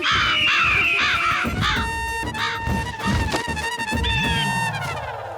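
Several crows cawing loudly in overlapping, harsh calls, a busy flock close by with no talk over it.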